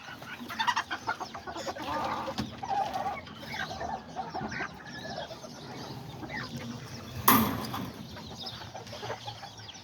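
Backyard hens with their newly hatched chicks cluck and murmur close by, with soft peeping and scattered squawks, plus one brief loud flutter or clatter near the end.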